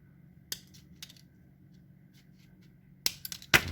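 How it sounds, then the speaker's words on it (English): Metal wire guard rails for a plastic model are snipped with nippers in a quiet room, a few sharp, close clicks spaced apart, followed by a quick cluster of cuts near the end. "So now I'll go through the process of nipping these back."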